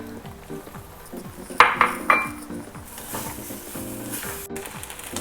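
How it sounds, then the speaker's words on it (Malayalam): Eight cut okra pods tip into a pan holding onion and tomato: a few sharp utensil clinks and knocks, followed by a rising, steady frying sizzle. "ഇനി വെണ്ടക്ക ചേർത്ത് കൊടുക്കാം"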